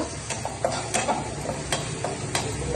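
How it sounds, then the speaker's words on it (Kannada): Tomatoes and tomato sauce fry in a pan for pasta under a soft, continuous sizzle, while a spatula strikes and scrapes the pan in a steady series of light, close ticks and knocks. "ಟೊಮೆಟೊ ಸ್ವಲ್ಪ ಫ್ರೈ ಆಗಲಿ."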